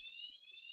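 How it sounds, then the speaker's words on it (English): A fire alarm sounds faintly, a steady high electronic tone that holds unbroken for under a second, with no voices over it. "There's a fire alarm going off."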